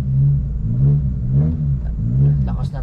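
A manual-clutch car engine revs up close in a few rising and falling surges, a low throaty hum swelling and easing over a couple of seconds.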